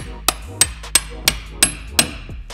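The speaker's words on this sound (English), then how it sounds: "I'm getting ready to just whack it into the side of this oil filter." A hammer drives an anti-splat tool into the side of an oil filter: six sharp metallic blows, evenly spaced and close, each with a short ringing decay. No one speaks.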